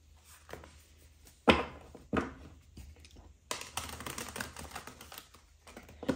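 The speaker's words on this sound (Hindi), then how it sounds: "ओके, अच्छे से शफल करेंगे पहले।" Tarot cards shuffled for a love reading, giving quick papery riffles and soft slaps in short bursts, with a louder stretch of continuous rapid card flicking toward the end.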